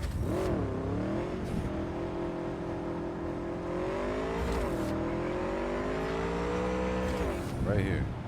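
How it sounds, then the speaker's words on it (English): Motorcycle engine in Cyberpunk 2077 holding a steady loud drone with rising and falling revs, a sharper surge near the end, heard close and continuous. "I'm gonna use my motorcycle to get there"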